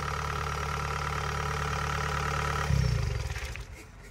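A Kubota DC70 combine harvester engine idling with a steady low throbbing hum that shifts and surges briefly near the end, then drops in level, close and with no talk.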